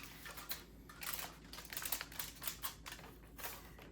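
Aluminium foil being handled and folded while preparing a meal gives off quiet, irregular crinkles and crackles in short bursts, close and soft, with no talking.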